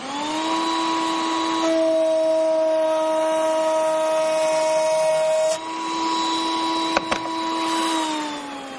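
A hand router cuts wooden pieces with a loud, steady high whine whose pitch shifts slightly as the bit enters and leaves the wood, with a brief clatter toward the end.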